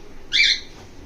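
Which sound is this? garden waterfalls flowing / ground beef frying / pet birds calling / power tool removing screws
pet birds calling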